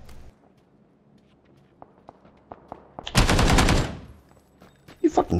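Gunfire in the video game PUBG: scattered light taps and steps give way to one sustained, loud automatic burst of about a second, then a few sharper bangs close by.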